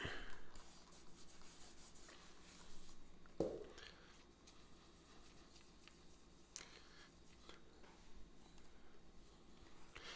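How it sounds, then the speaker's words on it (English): Brown shoe polish being rubbed into a leather boot, quiet continuous brushing and rubbing strokes with a few soft knocks, close and faint. "just keep on rubbing it in and make sure you get all of the parts of the leather with the polish."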